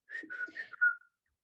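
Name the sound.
person whistling a call to an elephant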